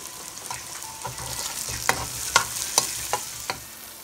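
Whole green chilies fry with browning onions in a pan for a fish dopiaza, a steady close sizzle punctuated by several sharp spoon clicks and scrapes, without talking.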